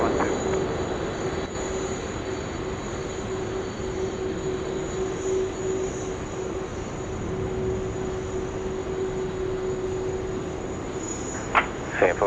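Singapore Airlines airliner on the runway at Sydney Airport, a steady distant engine roar with a sustained tonal hum running throughout, broken near the end by a couple of brief sharp clicks.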